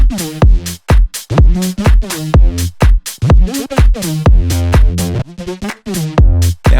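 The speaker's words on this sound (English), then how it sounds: "That is where the delay is happening, and it just adds a little bit of subtle sort of movement and space" Plucked synth music notes in a rhythmic pattern, with an automated delay adding faint echoing repeats on selected notes; the phrases are clean and close, separated by short silences.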